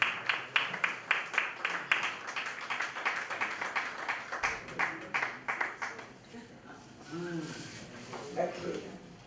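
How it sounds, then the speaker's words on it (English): An audience at a World Photography Day 2025 event gives a clapping ovation: dense, rhythmic clapping fills the first six seconds, then fades as a voice starts talking. "with a clapping ovation, please."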